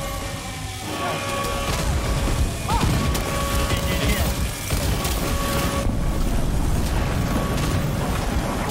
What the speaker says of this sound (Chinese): 轰炸轰炸轰炸